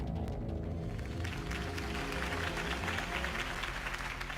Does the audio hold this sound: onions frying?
no